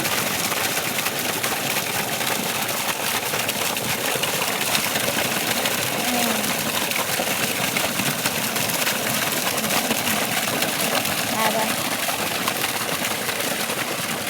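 Motorised grinder spinning and grinding raw mango outdoors in a garden, giving a steady, continuous mechanical whirr that holds at an even loudness throughout, with no voices.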